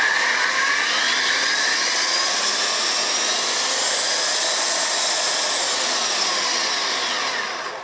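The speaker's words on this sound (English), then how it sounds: "if you want to do more controlled work with sanding, you can do that here, or you can speed it up" A high electric sander motor on a Powerstat variable transformer whines steadily, its pitch sweeping upward as it speeds up, continuous and close with no talking.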